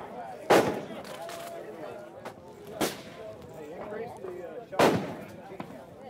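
An Adcor Defense A-556 Elite AR-style rifle fires at a SHOT Show range: three sharp, loud, close reports spaced about two seconds apart, with people talking between the shots.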